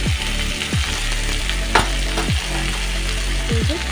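Vegetables frying in a pan with turmeric, chilli powder and ginger paste, an even loud sizzle broken by several scraping strokes of a stirring spoon.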